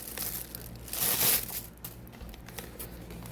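Plastic wrap around a sealed bag of Simao organic spring green tea crinkles close up in a few quick rustles, with the loudest crunch about a second in, then fainter handling.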